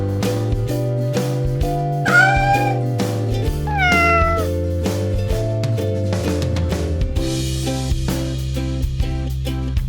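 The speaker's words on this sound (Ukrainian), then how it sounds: "Так, вірно, дітки, це котик." Two drawn-out cat meows rise and fall over a bouncy music track with steady beats, the meows clear and close.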